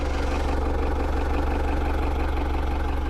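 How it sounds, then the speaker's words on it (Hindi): A Tata Xenon diesel engine idles close by with a steady, even rumble and a faint rhythmic knock. It runs alone, with no talking. "ये है इसका इंजन आवाज़।"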